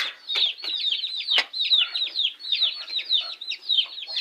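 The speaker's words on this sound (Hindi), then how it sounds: "ये हमारी जो गोल्डन मुर्गी नहीं है, गोल्डन, वो कुड़क हो गई है ना" A broody golden hen clucks and chatters in a steady run of short, close calls, with a few sharper knocks mixed in and no talk over it.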